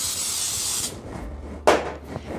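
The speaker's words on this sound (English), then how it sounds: "I like spraying them with cooking spray" An aerosol can of cooking spray hisses for about a second in a steady spray into cake pans, then a short second burst follows after a pause, with light handling clatter.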